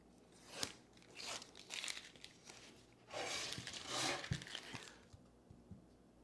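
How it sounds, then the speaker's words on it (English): Tape peeled off glued-up thin wood panels, giving a series of crinkly tearing and crunching rips in close-up, with short pauses between longer pulls. "now it's as simple as remove all the tape and see how we did"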